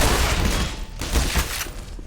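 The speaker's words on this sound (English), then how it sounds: "I'm gonna use my shotgun." Heavy shotgun blasts go off in Black Mesa, a few loud booming shots in a row over a dense, noisy game background.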